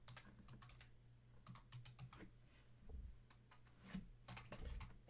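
Fingers tap on a computer keyboard indoors in short irregular clusters of light clicks, quiet and close, with a few heavier thumps between the keystrokes.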